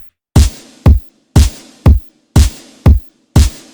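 A straightforward four-on-the-floor electronic drum pattern alternating punchy kicks with a distorted, reverb-drenched snare, repeating in a steady even rhythm, loud and dry between hits with no other sounds.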